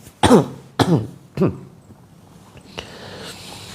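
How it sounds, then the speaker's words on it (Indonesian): A group session where people cough and clear their throats on cue, with three sharp, harsh bursts close together and then a fainter one. Low room noise remains afterward. "Kemudian batuk-batukan."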